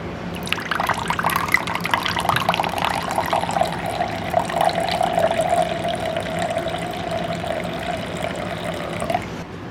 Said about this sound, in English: enough water to bring this up to a cup